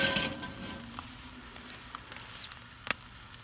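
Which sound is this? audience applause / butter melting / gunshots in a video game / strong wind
butter melting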